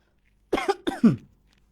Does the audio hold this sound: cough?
yes